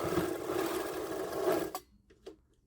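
A Veritas sewing machine with a size 90 needle zigzag-stitches through 20 layers of linen, a steady, dense mechanical whir running loud and close for about a second and a half before stopping, followed by a couple of faint clicks.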